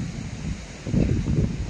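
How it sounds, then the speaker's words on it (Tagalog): Strong wind on a high mountain blows in a steady low rush and then builds to a louder gust halfway through, rustling throughout with no voices. "Ang lakas ng hangin."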